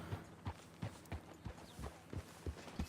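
Horse hooves clip-clop at a steady walking pace in a cowboy video game, a regular sequence of soft thuds over quiet background ambience.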